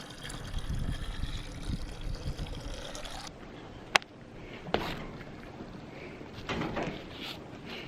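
Fresh, non-drinking water pours steadily from a tap or pipe at a station on a secluded island, a close, continuous splashing flow with occasional clinks and a brief sharp knock.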